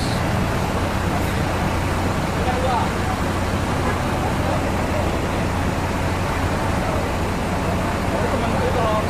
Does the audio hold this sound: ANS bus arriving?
yes